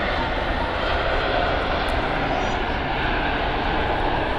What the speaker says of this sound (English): Ryanair 737.